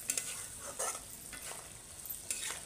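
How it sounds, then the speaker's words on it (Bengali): Fish oil frying in a pan gives off a quiet, steady sizzle, broken by a few soft stirring scrapes; no voices. "ওই যে হয়ে গেল মাছের তেল ফ্রাই"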